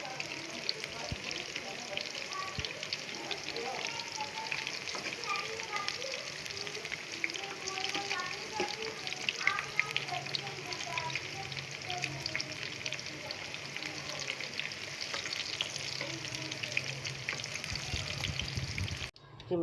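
Pakoras loaded with coriander and tomato crackle and sizzle steadily in hot frying oil, a dense, continuous close-up hiss that stays even throughout with occasional small pops and stirring.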